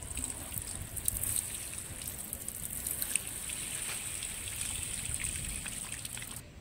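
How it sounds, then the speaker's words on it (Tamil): A watering can pours onto a brinjal plant, giving a soft steady trickle and splash of water that runs throughout, fairly faint, with no voices. "இப்போ கத்திரி செடி தண்ணி விடுறோம் பாருங்கள்."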